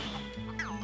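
A chicken in the Wii game Twilight Princess gives a single brief, nasal squawk over a steady game background hum.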